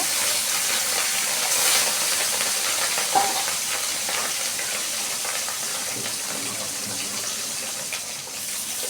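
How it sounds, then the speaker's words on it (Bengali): Steady loud sizzling of fish frying in hot oil fills the whole stretch, close up, with faint clinks now and then and no talking. "একইভাবে সবগুলো মাছ আমরা ভেজে নিব"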